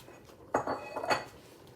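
A metal cooking pot being swapped on a fire while making lentil soup: a couple of clanking knocks and scraping clatters of metal on metal, close and distinct, without any speech.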